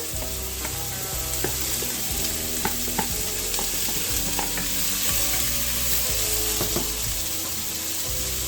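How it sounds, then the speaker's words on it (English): Onions and pepper sauté in a pan for a beef and cow foot stew, giving a steady broad sizzle with scattered small pops and occasional soft stirring scrapes, close and continuous. "Let it saute for a bit."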